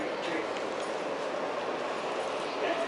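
A World Trade Center-bound E subway train in New York rumbles steadily, a constant broad roar of wheels and carriage noise close by, with faint voices now and then underneath.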